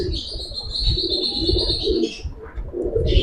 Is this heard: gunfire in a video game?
no